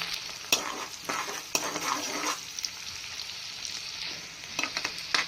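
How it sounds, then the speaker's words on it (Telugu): Chopped onions, green chilies and curry leaves fry in foaming hot peanut oil, giving a steady close sizzle broken by several sharp scrapes and knocks of stirring. "నూనె వేడెక్కిన తర్వాత మనం ముందుగా కోసి పెట్టుకుని ఉల్లిపాయలు వేసుకోవాలి తర్వాత పచ్చిమిర్చి కరివేపాకు"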